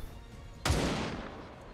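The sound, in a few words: gunfire in XCOM 2 video game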